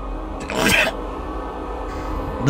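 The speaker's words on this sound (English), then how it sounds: "The sneeze." A giant cat character in the video game Poppy Playtime Chapter 3 gives a single short, breathy sneeze burst in the middle of a quiet game backdrop.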